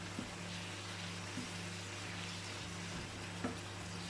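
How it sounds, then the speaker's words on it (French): Chinese cabbage cooking in a pan, giving a steady, even frying sizzle with a low hum beneath and a few faint clicks, continuous and fairly quiet with no voices. "le chou, il cuit en fait"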